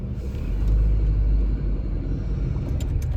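Road traffic in Archer Heights rolls past as a deep, steady rumble of cars and heavier vehicles, with a brief hiss near the end and no voices over it.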